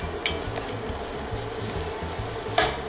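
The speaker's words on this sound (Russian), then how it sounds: "Обжариваем лук до золотистого состояния" Chopped onion sizzles steadily in olive oil in a pan, cooking for a classic lasagna Bolognese, with a continuous close frying hiss broken by short scraping stirs.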